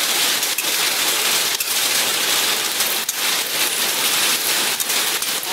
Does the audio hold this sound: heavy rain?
yes